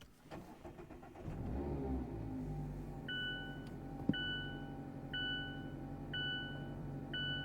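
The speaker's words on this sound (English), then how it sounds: "So let's begin by firing it up." A 2024 Mazda MX-5 Miata's 2-liter engine cranks and catches, swells briefly, then drops to a steady idle inside the car while a repeating electronic chime beeps in regular pairs over the hum.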